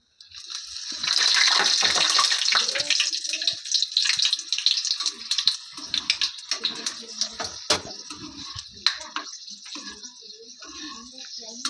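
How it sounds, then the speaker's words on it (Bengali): Dried red chillies frying in hot oil for masala chira bhaja, a Bengali spiced flattened-rice snack, give a steady hiss with crackling pops that fades into scattered sharp spits and drips. "শুকনো লঙ্কাগুলো নিয়েছি, তেলের মধ্যে দিয়ে ভেজে নেব।"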